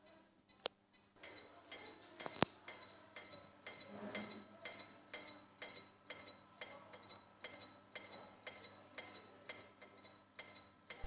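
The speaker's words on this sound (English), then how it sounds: "I could actually hear a clicking sound from all of the hard drives" Failing hard drives in Lenovo school PCs give off faint, regular clicking, a steady rhythmic ticking repeating roughly twice per second, close and quiet with no voices.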